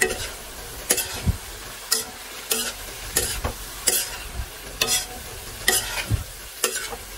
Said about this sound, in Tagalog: Ayan po, ating haluin naman ngayon guys.